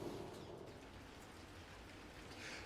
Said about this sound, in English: Just in case you're wondering, yes, it's still raining.